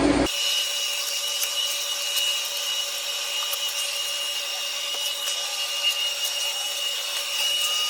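A Kenmore bagless vacuum cleaner with hair eliminator, set to hard floor, runs with a loud steady motor whine close by, punctuated by small clicks and rattles.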